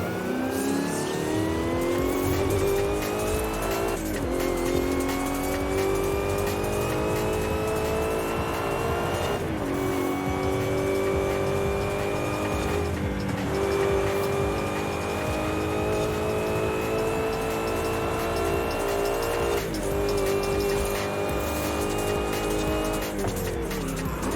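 Nissan Safari in a Forza Horizon 5 street race, its engine revving and climbing through gears with repeated shifts, tire squeal and skidding, loud and continuous throughout.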